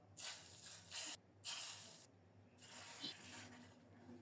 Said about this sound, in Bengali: ফোড়নে দিচ্ছি কালো সরিষা।